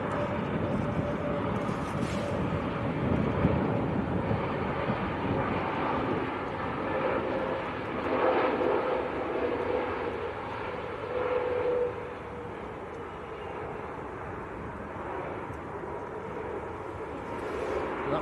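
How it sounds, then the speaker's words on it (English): An easyJet airliner arriving from Copenhagen lands at Manchester Airport, heard as a broad, steady jet roar at moderate distance that swells slightly midway, then settles into a lower, quieter rumble as it rolls out. "That was EasyJet from Copenhagen."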